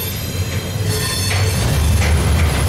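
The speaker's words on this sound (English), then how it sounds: "Started out intermodal, going to a mixed manifest here." A mixed freight train, intermodal cars giving way to manifest cars, rounds the Mance curve with a steady loud low rumble of wheels on rail and faint squeal above, continuous and close throughout with no talking.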